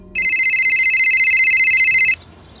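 A telephone rings in a crime drama scene: one continuous, loud electronic trill of about two seconds, alone with no voices, then stopping abruptly.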